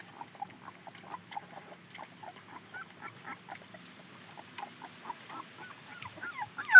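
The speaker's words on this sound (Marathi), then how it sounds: "खूप छान पिल्ले आहेत." Rescued puppies give high, thin whimpers and squeaks in quick irregular bursts, faint and close, ending in a louder yelp.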